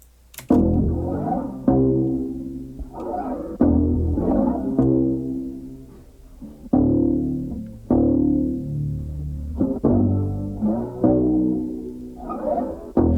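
Low, sustained slide guitar notes gliding between pitches in a slow, repeating pattern, played alone with a warm, mellow tone.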